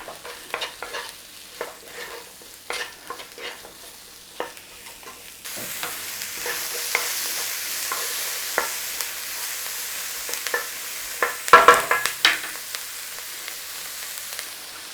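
Onions with garlic and a pinch of salt sizzling in a pan, first quiet with scattered stirring clicks, then a steady louder frying hiss with utensil scrapes and a brief clatter.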